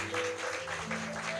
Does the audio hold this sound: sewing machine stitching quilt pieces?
no